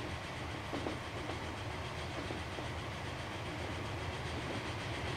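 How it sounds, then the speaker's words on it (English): Two trains pass each other in the railway simulation game Transport Fever, giving a steady rolling rumble with faint clickety-clack over a continuous low drone, fairly quiet and unbroken throughout. "We'll get this nice little double shot here of these two trains passing each other"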